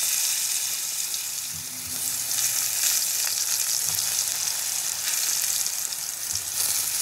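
Eggplant pieces fry in hot oil while cooking a potato-eggplant tangra fish curry, giving a steady close hiss of sizzling with a few soft stirring knocks.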